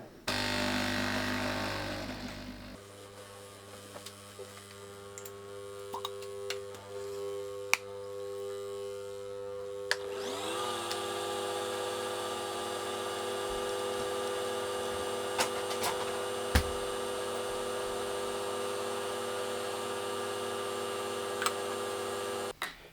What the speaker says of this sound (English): And the noise you can hear is the capsule inside spinning.